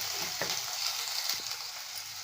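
Peas kurma sautés in a pan with a steady, close sizzle and crackle, broken by a few soft clicks of stirring.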